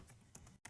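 A computer keyboard being typed on while entering switch port trunk commands, a few soft, quiet key clicks in quick succession.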